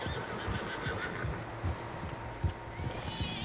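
In the video game Red Dead Redemption 2, horses whinny and snort over a low rumble of many hooves moving at once, with a faint voice murmuring in the background.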